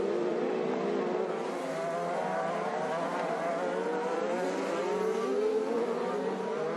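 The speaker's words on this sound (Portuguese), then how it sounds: "E já vem para cima do Tony Kanaan." IndyCar race cars scream past at the 2018 Long Beach street race, their engines forming a sustained, rising and falling high-pitched whine that fills the clip from a moderate distance.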